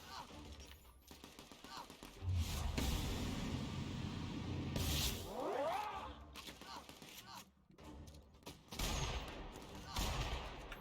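Rapid bursts of suppressing gunfire in The Outer Worlds, loud automatic volleys with crashes and impacts during a combat firefight, with voices shouting over the shooting.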